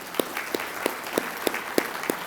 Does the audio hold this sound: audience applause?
yes